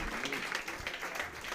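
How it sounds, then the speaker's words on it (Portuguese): A church congregation applauds during a sermon, a brief, steady spread of many hands clapping in a reverberant hall, with faint voices underneath. "Aplauda Jesus."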